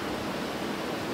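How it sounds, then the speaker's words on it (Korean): A mountain stream and waterfall flow steadily through a valley in spring, a dense, even rush of water that holds constant throughout with no gaps or voices. "계곡물은 조용히 그러나 끊임없이 흘러갑니다"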